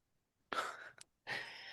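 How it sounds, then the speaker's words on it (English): A single sneeze from a podcast host: a quick sharp burst of breath, close and alone, followed by a short pause and a breathy exhale. "That is the first time I've ever sneezed on a podcast."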